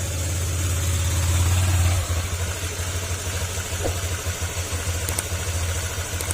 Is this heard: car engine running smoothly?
yes